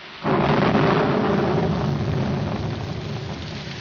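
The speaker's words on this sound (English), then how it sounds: "It's going to rain." Rain and thunder in a 1947 film: a heavy, continuous roar breaks in almost at once and holds steady with a deep rumbling undertone, gradually easing slightly toward the end.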